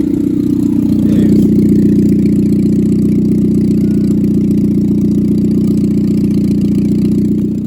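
Nissan Micra K11 with a swapped GA14 engine idling roughly and close by, a steady low rumble that stumbles and wavers as it nearly stalls.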